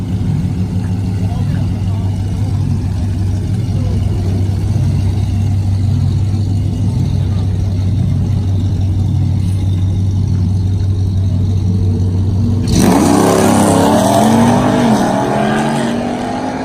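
A Procharger P1SC1-boosted cammed Ram truck engine with straight-cut gears and a two-core intercooler, running 5 to 12 pounds of boost, idles with a steady loping rumble, then revs up sharply near the end, loud and close.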